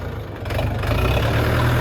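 A HORST L404 tractor runs steadily at idle, a low diesel rumble that swells a little halfway through, close and alone.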